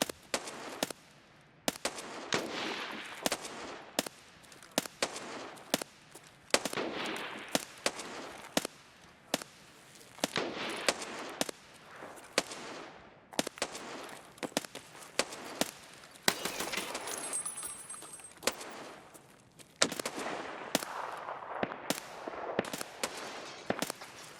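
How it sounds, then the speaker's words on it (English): Distant gunfire in Escape from Tarkov crackles as a long run of sharp, scattered shots and bursts, some close together and some spaced apart, with no talking. "Was that a stray bullet that just went flying above my head?"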